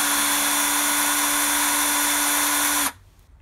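Electric drill spinning a Lee Precision case trimmer as it trims brass cartridge cases, a steady loud high whine with a strong tonal hum that runs continuously for nearly three seconds, then cuts off abruptly into quiet.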